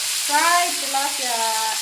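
Tilapia fries in a pan over a lowered flame, giving a steady, close hiss of sizzling oil for about two seconds, with a brief tonal, voice-like sound rising over it.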